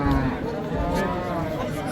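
A cow moos in a long, low, drawn-out call at a busy livestock bazaar in Kitob, close and loud, while people chatter and talk nearby.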